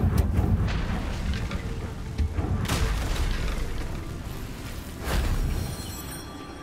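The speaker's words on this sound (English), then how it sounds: "use a fire spell to get rid of the vines" Confringo fire spell in Hogwarts Legacy hitting and burning away vines: whooshing, booming bursts of fiery noise, a few sharp flares rising over a rough, rumbling magical background.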